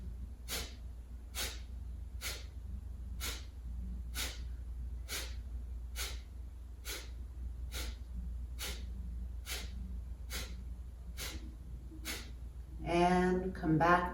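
Sharp, forceful breath expulsions during a breathing exercise, about a dozen evenly spaced puffs through the nose at a quick steady rhythm, close and clear, with a voice speaking at the end.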